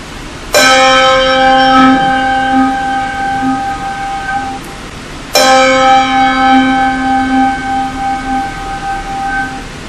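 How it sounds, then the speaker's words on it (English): A large handbell, held sideways so its echo rings out, is struck twice about five seconds apart; each loud, bright strike blooms into a long, shimmering sustained tone that slowly decays, with no talking. "if I were to turn the bell sideways, you can hear that echo better"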